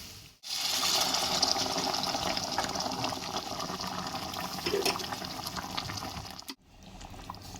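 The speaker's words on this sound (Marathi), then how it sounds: "आता आपण गरम पाणी टाकणार आहे याच्यामध्ये" Hot water pours steadily into a pot of chicken curry for several seconds, a continuous splashing rush that starts and stops abruptly.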